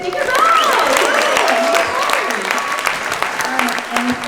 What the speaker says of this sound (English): can I have, like I said, just one more big round of applause?